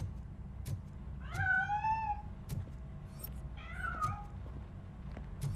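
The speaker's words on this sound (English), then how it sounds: "That cat must be hiding inside." A cat meows twice in Robocop Rogue City, each call a drawn-out, rising-and-falling cry over a steady low background hum.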